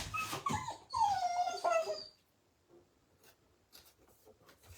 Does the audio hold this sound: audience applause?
no